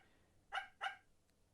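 Small dog on a leash giving two quick sharp yips in succession, close and clear against a quiet background, then silence.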